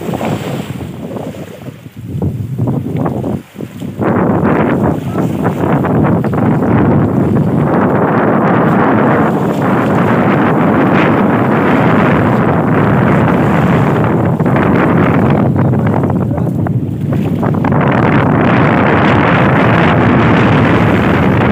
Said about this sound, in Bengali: নদী থেকে একটি ফিশিং ট্রলার যাচ্ছে